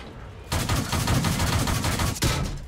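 Sustained burst of loud, rapid cannon and machine-gun fire with explosions in the World of Tanks video game, close and dense for about two seconds before a sharp final crack.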